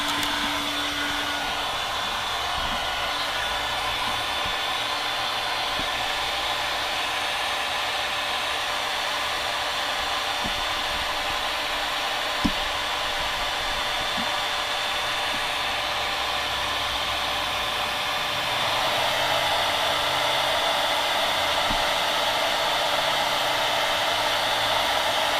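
A heat gun blows steadily for a long stretch while heating the midsole of an Air Jordan 4 Retro White Cement sneaker, a loud, constant close-up whoosh of hot air that brightens slightly near the end.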